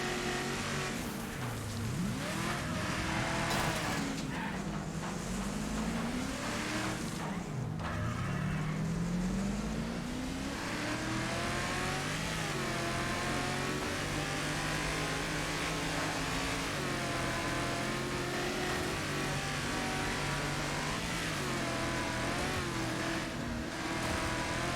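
Car engine in the Wreckfest racing game droning steadily throughout, with rising and falling revs as the car accelerates and shifts, loud and continuous over a busy rumbling background.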